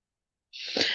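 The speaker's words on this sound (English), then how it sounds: "Excuse me, I gotta sneeze." A single sharp sneeze bursts out after a moment of silence, close and fairly loud, with a breathy hiss trailing to the end.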